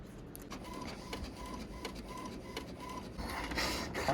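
Close printer running a single-sided page, with a rhythmic mechanical whir and evenly spaced clicks and tones from the print head, then rising paper-feed rustle near the end.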